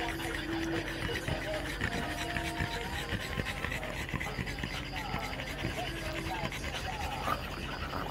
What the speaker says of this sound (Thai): มาหอบแฮกแฮกกันทำไมเรียงกันเสียสามตัวเนี่ย